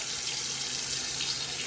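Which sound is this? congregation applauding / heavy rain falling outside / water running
water running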